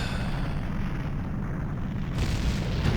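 Explosion in the Nintendo 64 game Zelda: Ocarina of Time, a sustained low booming rumble with a noisy roar that holds steady for a few seconds, with a brief shift in the upper hiss near the end.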